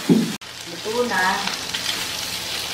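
Sisig frying and being stirred in a pan, with a steady close sizzle and a spatula scraping and stirring, and a voice speaking briefly over the cooking noise.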